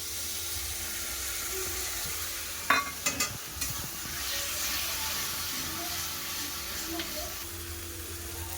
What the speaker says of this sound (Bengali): মশলাটা কষা হয়ে গেছে এবার দিয়ে দেবো বেটে রাখা কাজু কাঁচা লঙ্কা পোস্ত বাটা